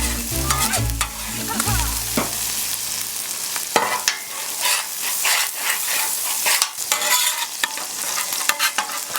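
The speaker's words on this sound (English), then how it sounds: "now we're going to mix in these mushrooms and spinach" Chorizo with mushrooms and spinach sizzling on a Blackstone griddle while being stirred and scraped, a loud, close, continuous frying hiss broken by repeated metal spatula scrapes and taps.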